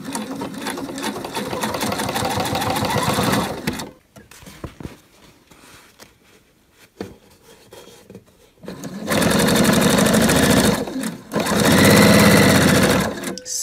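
A sewing machine stitches the long side of a French market bag with both edges folded in, running in loud continuous bursts that stop for a quiet pause in the middle before resuming.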